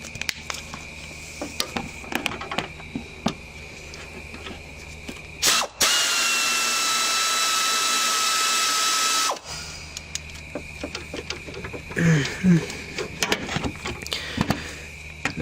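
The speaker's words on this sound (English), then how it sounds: "Now some ratchet wrenches would really come in handy if you don't have some already." A power tool runs in one steady loud burst of about four seconds, between quieter clicking and handling noises from loosening a 12 mm bolt on a Lexus ES330 during an alternator replacement.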